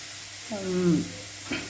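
Onions sautéing with crushed ginger and garlic in a pan while making beetroot cutlets, a soft, steady sizzle under a brief tonal voice-like sound.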